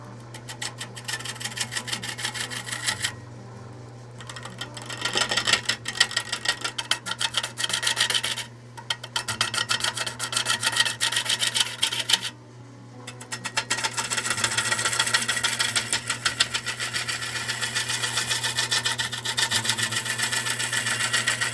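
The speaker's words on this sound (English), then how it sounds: "he's hired me to turn a bowl out of it" A gouge scraping and rasping against a spinning dried wood blank on a lathe as it is trued before turning a bowl, loud, continuous cutting noise with a few short pauses over a steady motor hum.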